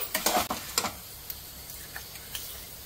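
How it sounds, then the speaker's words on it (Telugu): Spices stirred in a hot pan of oil for sambar: a few quick scraping stir strokes with a soft sizzle early on, then sparse faint ticks and crackles as the frying settles. "ఇప్పుడు మనం చక్కగా కలుపుకుందాం"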